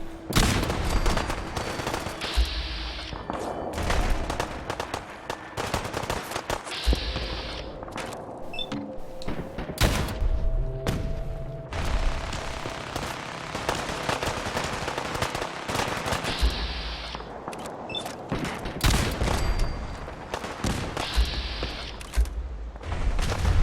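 Gamma gun gunfire in the video game Fallout 4 comes as loud, dense bursts of rapid shots and impacts, repeating throughout amid other combat noise.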